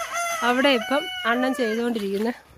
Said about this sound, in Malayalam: ഇവിടെ ഇപ്പോൾ 3 പൂവന്മാർ നിൽപ്പുണ്ട്.